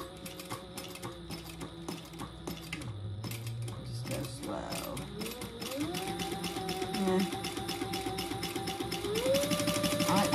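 A domestic sewing machine backstitching on a wristlet bag, fast rhythmic needle clatter that pauses, shifts pitch as the motor changes speed, then runs on steadily and close.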